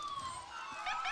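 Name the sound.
ambulance siren in a county fair parade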